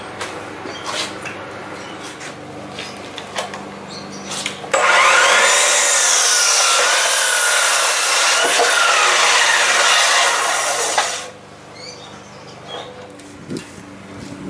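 A power saw cuts through wooden boards for a table, a loud steady buzzing rasp lasting about six seconds, close up, with quieter workshop clatter before and after.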